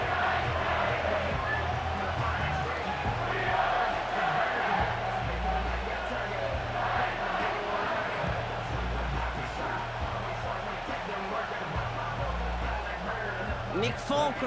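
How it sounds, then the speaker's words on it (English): A home crowd cheers and rallies in an NFL 25 football video game, a broad, constant roar that fills the scene under a commentator's voice. "you can already hear this home crowd rallying in support of that upset"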